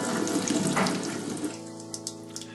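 Water runs steadily from a tap into a sink, splashing loudly at first, then thinning to a lighter trickle with a few drips, used for washing oil-soaked birds.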